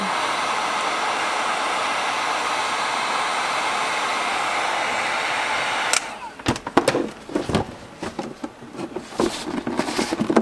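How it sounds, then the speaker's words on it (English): A heat gun blows a steady, loud rushing hiss against the bottom of a homemade bait cooler for about six seconds, then shuts off, followed by scattered knocks and handling clatter. "So I'm just gonna heat up the bottom here."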